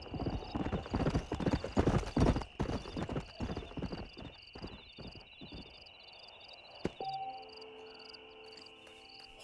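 Hooves clip-clop in a quick irregular rhythm while a horse neighs in the Red Dead Redemption video game. Crickets chirp steadily in the background, and the hoofbeats thin out toward the end as a sustained tone enters.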